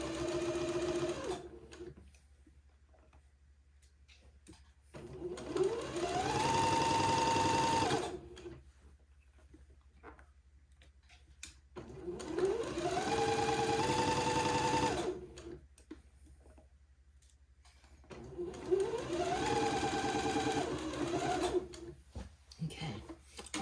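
A sewing machine stitches a seam on a daygown in three separate runs of several seconds each, its motor whirring loudly and steadily with quiet pauses between bursts.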